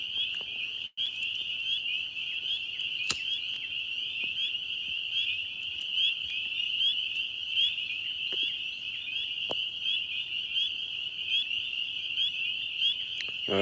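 A dense chorus of frogs croaks continuously in a steady high-pitched trill, fairly loud and unbroken, with a few faint clicks and no talk.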